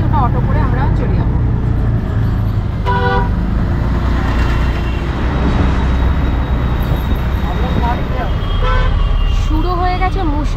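Traffic jam during torrential rain, seen from an auto-rickshaw heading to a bus stand, with loud continuous road rumble and rain noise, repeated car horns honking near and far, and people talking over it.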